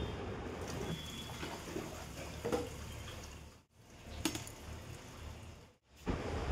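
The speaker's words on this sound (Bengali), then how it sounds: "যখনই দেখি বোতলগুলো খালি হয়ে যায় আমি একবারে তখনই ভালো করে মেজে ধুয়ে জল নিই।" Tap water running into washed bottles, a continuous close splashing and trickling stream broken by a couple of brief pauses, with faint clinks of the bottles.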